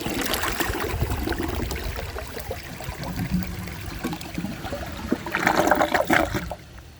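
A 1999 Universal-Rundle Atlas comfort-height toilet flushes, a loud rushing swirl of water that churns steadily, then surges again near the end before cutting off abruptly.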